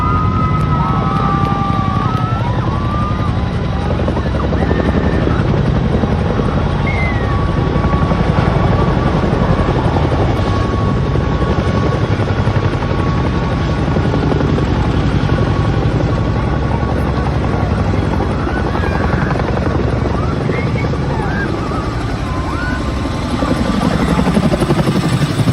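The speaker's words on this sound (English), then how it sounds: "we got to see a Chinook helicopter take off just right in front of us" A loud, steady Chinook helicopter roar with rapid rotor thumping as it takes off close by, continuous throughout, with no one talking.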